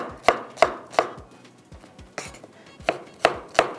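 Onions sliced with a knife on a cutting board: a series of crisp, close chopping thuds in an uneven rhythm, about eight strikes with a brief pause in the middle.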